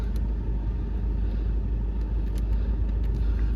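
A Volkswagen Golf 2.0 TDI diesel settles into a low, steady idle after starting, its rumble constant and close with no talk over it.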